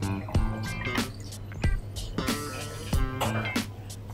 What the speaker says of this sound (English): finally top it up with tonic water